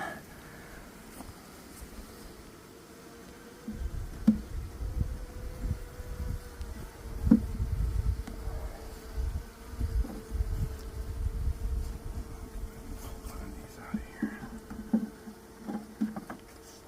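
A low, steady buzzing of many bees close by, with soft tapping and rustling of movement around them, no talking.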